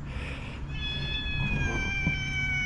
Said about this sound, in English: Well, Mr. Kitty's hungry